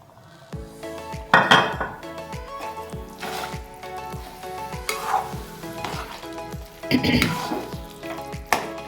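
Water goes into hot mustard oil and ghee in a pan, making loud close sizzling and frying, with clattering utensil scrapes against the pot and repeated bursts of spattering.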